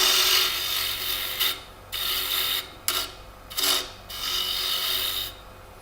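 A tool scrapes and rasps against a wooden ornament spinning on a lathe as it is turned down. The cutting comes in several close bursts of about a second each, broken by short pauses.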